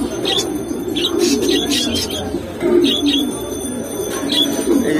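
A pair of Lahori pigeons, a hen near laying and a young cock, coo softly in repeated short calls against steady low background noise, with occasional chirps from other birds nearby.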